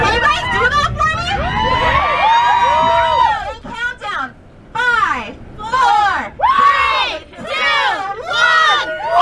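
A large crowd screams and shouts at the entrance gates of Walt Disney World, with loud, overlapping high-pitched cheers and yells rising in repeated bursts and brief dips between them.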